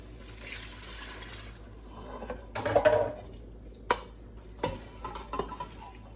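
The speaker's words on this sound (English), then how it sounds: "now I'm going to add my cabbage and about 2 cups of water and 2 pints of my chicken broth" Partly frozen cabbage, water and chicken broth going into a soup pot, with a few louder splashes, clunks and stirring knocks against the pot in the middle over a quiet kitchen background.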